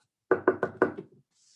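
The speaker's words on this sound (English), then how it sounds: "we knock on her door" Four firm knocks on a door in quick succession, then a couple of softer trailing taps, close and clear with silence around them.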